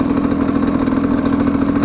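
A KTM SX 250 motorcycle, freshly repaired but with a holed exhaust joint, idles close by with a steady, loud, even engine note and no variation in pitch.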